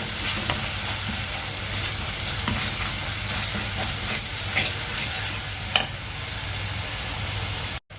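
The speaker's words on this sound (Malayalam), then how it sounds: "ഈ വെളിച്ചെണ്ണയ്ക്കകത്തിട്ട് നല്ലപോലെ വഴറ്റി കൊടുക്കണം" Masala paste for Kerala fish curry sautés in coconut oil with a continuous close sizzle, while a spoon scrapes and stirs the pan in irregular strokes, one sharper clack near the end before it cuts off.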